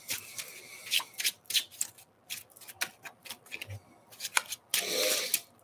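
Tarot cards being shuffled and handled, crisp riffling flutters and quick papery snaps in irregular bursts, close and fairly quiet, ending in a longer shuffle, with occasional soft speech.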